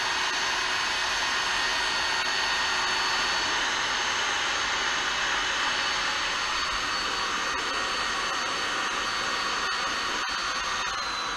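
A heat gun blows steadily on the worn-down keel of a polyethylene plastic kayak during a repair, a constant loud airy whir with a faint whine, unbroken and alone.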